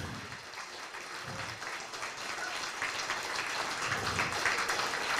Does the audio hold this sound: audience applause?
yes